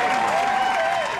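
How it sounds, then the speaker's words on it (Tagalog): A brief burst of studio applause on a Filipino radio programme, dense and close, sustained for about a second with a faint tone running underneath. "Palakpak"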